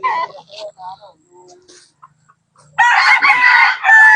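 Black hens cluck and call in short bursts on a farm in Angat, Bulacan, then a rooster crows loudly and close by.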